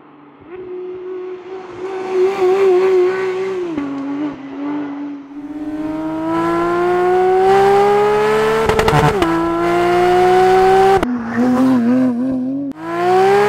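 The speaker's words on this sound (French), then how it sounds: "Voilà comment on crée une GT3 avec un échappement GCR." Porsche 911 GT3 engine with a GCR exhaust revving through gears, its pitch climbing steadily with a harsh exhaust note, briefly dropping at each shift, loud and close.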